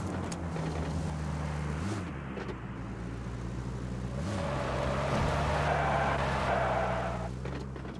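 A car engine hums steadily in PUBG Mobile, low and continuous throughout, with pitch dips as it shifts or bumps and brighter road noise in the second half.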